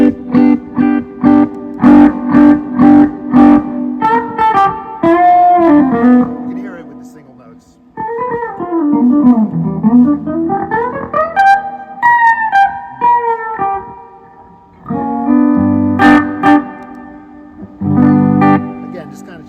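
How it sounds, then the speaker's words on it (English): Electric guitar run through an Ibanez analog delay pedal in a guitarist's rig, playing melodic lines and chords in separated phrases with sustained, repeating notes trailing behind, loud and close. "Goes into Ibanez analog delay after that, which is set to a super specific sound."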